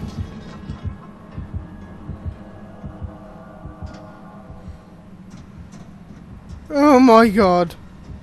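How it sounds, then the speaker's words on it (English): A killer's terror-radius heartbeat throbs in Dead by Daylight, a steady low pulse with a faint hum beneath it, while a person speaks briefly and a loud warbling cry bursts out near the end. "the heartbeat's come back"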